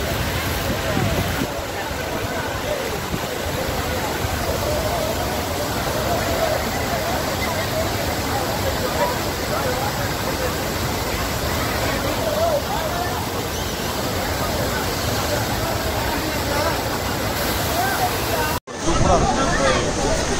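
Floodwaters of Kutralam waterfall in Tamil Nadu roar as a steady, dense rush for about eighteen seconds, with crowd babble and shouting voices mixed in before a sudden cut near the end.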